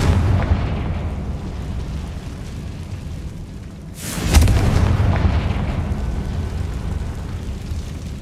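A Confringo fire spell blast in the Hogwarts Legacy video game: a sudden loud booming burst midway, following a steady rumbling background, with no voices.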